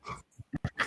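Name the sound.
dog making a noise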